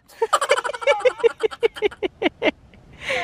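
Ducks call in a rapid run of about a dozen loud, close quacks, evenly spaced and then slowing and fading, followed by a soft breathy rush at the end, with no talking.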